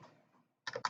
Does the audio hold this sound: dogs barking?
no